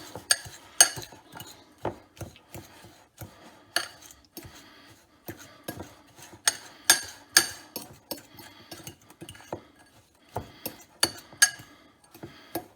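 Fork clinking and scraping against a bowl while mixing butter into cookie crumbs for a snickerdoodle cheesecake crust, with irregular bursts of sharp metallic taps, close and moderately quiet, no talking.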